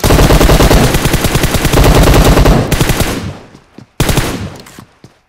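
Loud, rapid automatic gunfire in the video game PUBG Mobile rattles in a dense sustained burst. It breaks off, and then a second burst follows before fading.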